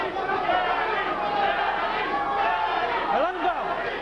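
A boxing crowd on its feet at a Gatti versus Rodriguez fight, a loud, continuous roar of cheering and chatter from the arena, with a commentator's voice running over it.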